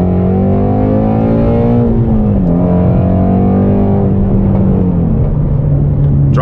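A Shelby GT350 fitted with a K&N air filter, heard from inside the cabin after a downshift to second gear, gives a loud, sustained engine roar whose pitch swells and dips as the revs climb toward about 6,000 RPM.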